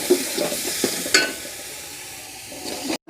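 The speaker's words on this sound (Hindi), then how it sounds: "और इस मसाले को अच्छी तरह से भूनते हैं।" Spice masala with dried coriander, cumin and turmeric roasts in a pan for beef paye, a close hissing sizzle broken by several quick scraping stirs.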